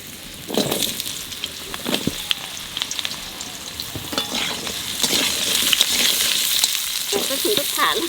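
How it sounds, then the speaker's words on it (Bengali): Potatoes frying in a pan for a Durga Puja Navami meal, a steady loud sizzle broken by scraping stirs, close up with no talk. "আলুগুলো একটু ভাজে নেব।"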